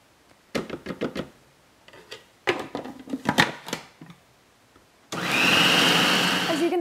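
A food processor whirs steadily while chopping green pesto ingredients, a loud continuous motor drone starting near the end after a series of clattering knocks and bumps as ingredients and the lid are handled.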